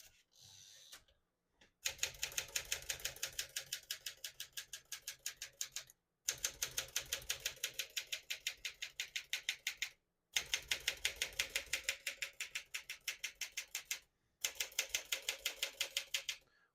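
A 1957 Smith-Corona Silent-Super portable typewriter types in rapid, even runs of sharp key strikes, four bursts separated by short pauses, close and clear with no talking.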